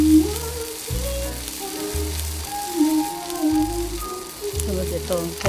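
Food sizzling and being stirred in a pan in the Cookingdom video game, a steady frying hiss with game music running beneath it and no talk.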